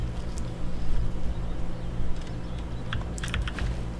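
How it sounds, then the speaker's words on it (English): Scattered clicks of a computer keyboard being knocked, a few faint taps early and a brisker cluster of keystrokes toward the end over a low steady background hum. "sorry for that noise if I was hitting the keyboard around"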